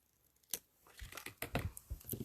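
Close, quiet snips and crinkles of scissors cutting paper while scrapbooking, a few irregular crisp cuts with light paper rustling between them.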